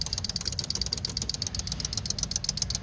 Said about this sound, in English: Oh yeah, I hear the fuel pump running.